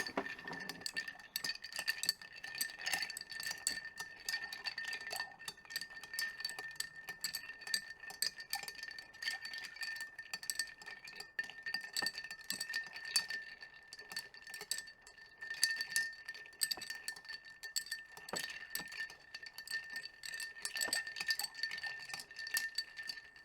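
A cocktail with Angostura bitters is stirred in a glass, giving a steady run of light clinks and rattles that continue close and alone without talk.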